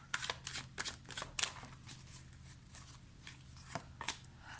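Tarot cards shuffled and drawn for a reading, a run of quick crisp riffling bursts close by, then softer card handling, with no talk.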